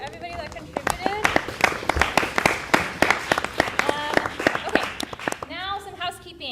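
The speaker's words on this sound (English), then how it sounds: "Round of applause for everybody that contributed." A theatre audience gives a round of applause at a new works festival night, a dense wash of clapping mixed with cheers and voices, fading as a voice speaks near the end.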